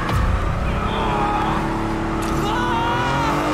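A car being driven in the video game Marvel's Spider-Man, a steady engine drone with a rising rev near the end, loud and continuous under game ambience.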